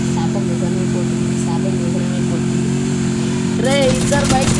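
A motorcycle engine idles steadily, then revs up near the end, close by, with people talking over it throughout.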